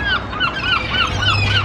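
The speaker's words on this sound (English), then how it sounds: "Look at the big seagull for everybody who's never seen one." A large seagull calling at close range in Brighton, UK, giving a rapid run of about six loud, honking squawks in steady rhythm, with no talk.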